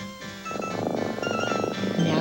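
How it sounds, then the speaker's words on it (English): A cat meows in a pet-food television commercial for Cal-Can; the sustained, clear, tonal call fills the brief moment, loud and close, with no talk over it. "Now that's the sound of a healthy cat"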